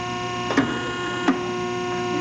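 Model 3212 SA tube forming machine running a forming cycle on a clamped tube, a steady electrical hum with tonal whine, punctuated by two brief mechanical clunks about a second apart.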